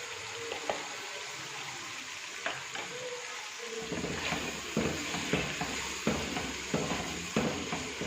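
Chicken handi cooking in a pan as yogurt is stirred in, giving a soft sizzle that grows busier after a few seconds, with repeated scraping stirs and light clinks at a steady pace.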